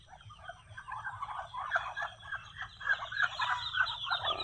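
Farm poultry and chicks make a dense, continuous chorus of chirps and gobbling calls, close and fairly loud throughout, with no talk.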